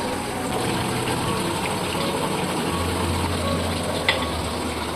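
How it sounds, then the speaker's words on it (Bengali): Poppy seeds fry directly in onions in a pan: a steady, dense sizzle held close and even throughout, with one faint clink near the end and no voices. "শুধু পোস্তগুলো ডাইরেক্টলি পেঁয়াজের মধ্যে দিয়ে দেবো চার পাঁচ মিনিট ভেজে নিল"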